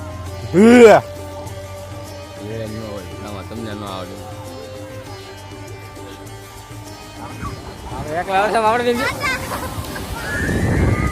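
Sea water sloshes and splashes against a boat crossing from Dwarka to Bet Dwarka, swelling louder toward the end, with people chattering and voices babbling over the water.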